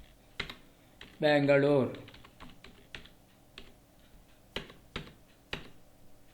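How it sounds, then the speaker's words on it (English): Sharp, irregular clicks of computer keyboard typing while entering details into Tally Prime accounting software, close and crisp, with a short spoken word partway through. "type PAN number, type GST number"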